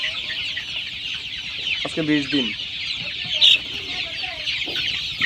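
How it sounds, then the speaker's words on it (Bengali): Twenty-day-old tiger breed chicks keep up a dense, continuous chorus of high peeping close by, with a few louder cheeps standing out, while someone talks briefly over them. "অরিজিনাল টাইগার মুরগির বাচ্চা"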